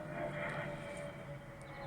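A steady, broad engine drone from an aeroplane passing overhead, continuous and moderately loud across the whole stretch, with no voices.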